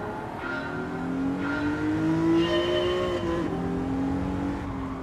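A fast race car in Gran Turismo 7 on PS5 holds a steady high-revving engine note that climbs through the gears, with brief tire squeal layered over the loud continuous drone.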